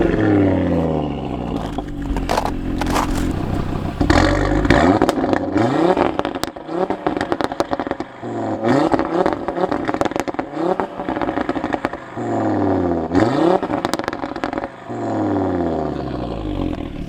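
A tuned Audi RS3 drives hard, revving repeatedly through gears with loud rising engine roars, brief lifts between pulls, and crackles on the overrun, close and without talking.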